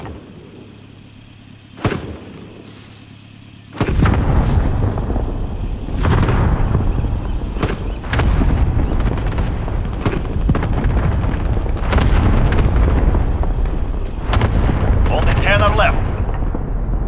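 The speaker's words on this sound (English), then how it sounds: "Allied cluster strike incoming." Allied cluster strike in a battle royale video game: a string of heavy booming explosions rolling one after another over several seconds, loud and rumbling, with game voice callouts and a player talking over them.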